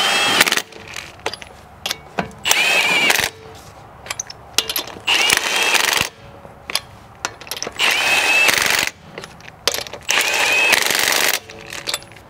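A ratchet runs lug nuts down on the wheel of a 2001 Nissan Maxima during an outer tie rod replacement, heard as several close, loud bursts of rapid clicking separated by short pauses.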